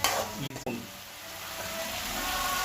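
Tomatoes frying in hot oil give a steady broad sizzle, with a couple of brief stirring interruptions near the start, close and moderately loud.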